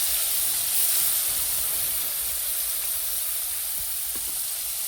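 Cumin and onion paste being fried in oil for a fish curry with pointed gourd, giving a steady close sizzle and hiss throughout with a few faint clinks.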